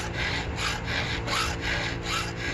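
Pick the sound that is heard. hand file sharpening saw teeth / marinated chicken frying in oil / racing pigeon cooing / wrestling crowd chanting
hand file sharpening saw teeth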